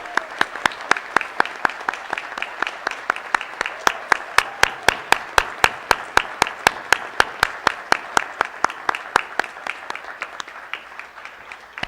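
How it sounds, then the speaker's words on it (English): Audience at a high school board of education meeting applauds honor society students, with sharp, fairly regular claps in a sparse, close crowd that carries on steadily for about ten seconds before thinning out. "Can everybody please join me in a round of applause for these well-deserving."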